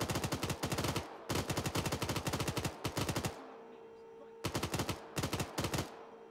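Gunfire aimed at players in the military game Arma 3: loud bursts of rapid automatic fire, several volleys split by short quiet gaps.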